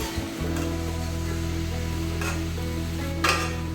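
Something roasts gently in ghee over a low flame while being stirred, a soft, continuous sizzle with occasional scraping stirs over a low background hum.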